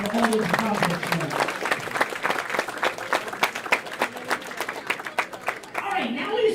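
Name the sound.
audience applause at bowling awards ceremony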